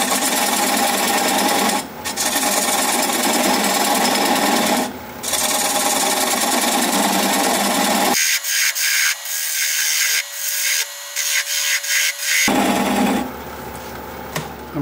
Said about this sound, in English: Gonna grab a 3/8 inch bowl gouge and begin to commence to removing that tenon.